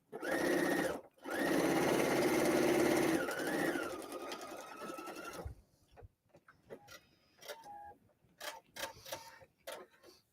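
A sewing machine runs in two loud sustained bursts of fabric stitching for a tea cozy, then falls silent and gives way to scattered clicks, taps and handling noises.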